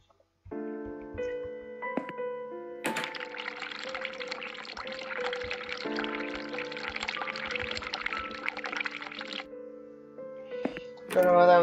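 Water runs from a sink in the horror game The Cat Lady, a steady hiss of flow that lasts several seconds over a sustained musical drone, with no speech.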